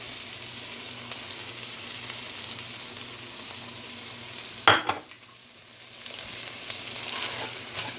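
Chili powder and cumin sizzling in a pot of chili, a steady soft frying hiss with one sharp clatter of a spoon or pot partway through before the sizzle settles back in.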